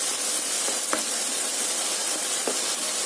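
Barnyard millet frying in a pan over a low flame for kesari, a steady soft sizzle and hiss running throughout with a couple of faint clinks, close and with no talking.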